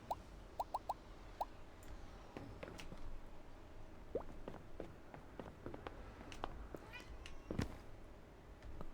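A house cat gives several short meows in a quiet room, with soft footsteps and light handling noises in between and a person talking faintly.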